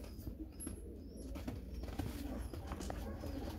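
A red Akbaş German Demkeş pigeon cooing softly in a few low, rolling calls, close but faint against steady background noise and rustling.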